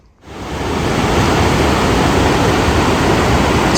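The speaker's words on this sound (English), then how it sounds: "All the water rushing down." Water rushing down a mountain stream or waterfall along the Great Divide Trail, a dense, steady roar that rises quickly from near silence and then holds loud and constant, with no voices.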